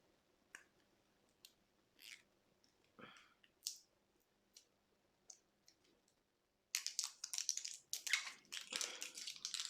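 Packaging of a W7 Oh My Gel waterproof black eyeliner pencil being opened, heard as scattered quiet clicks and taps, then a denser burst of crinkling, crunching plastic toward the end.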